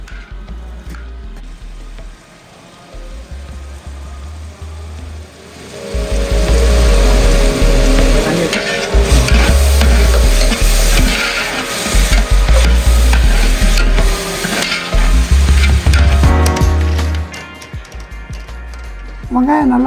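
Onions with salt sautéing in a large pan for a party-size batch of tomato rice, a loud continuous sizzle with heavy stirring and scraping throughout, quieter at first, then swelling to full intensity.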